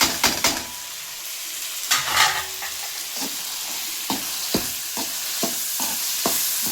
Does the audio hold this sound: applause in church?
no